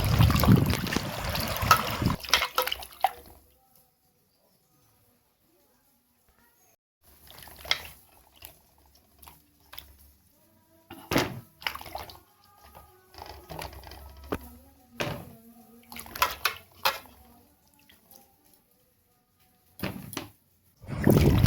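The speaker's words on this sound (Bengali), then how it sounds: "তারপরে এইগুলোকে ভালোভাবে জল দিয়ে ধুয়ে নিতে হবে পরিষ্কার করে।" Mangoes being washed by hand in a bowl of water, with bursts of splashing and trickling separated by quiet pauses, close by and without talk.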